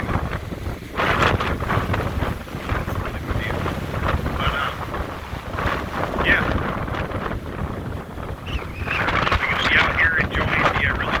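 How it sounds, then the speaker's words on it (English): Strong wind buffets the microphone in steady gusts, with a rushing, roaring texture and no talking. "I get to enjoy nice, really windy weather"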